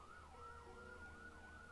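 Emergency vehicle sirens wail outside, a steady rising-and-falling tone that carries on throughout, fairly faint over low background rumble with no talking.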